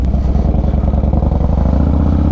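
A Harley-Davidson motorcycle rumbles close by while being ridden, its engine throbbing in a steady, heavy pulse with a slight rise in revs throughout.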